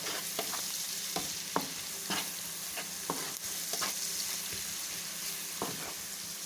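Onions fry in a pan with a quiet, even sizzle, broken by repeated scraping and stirring strokes that land every second or so close to the listener.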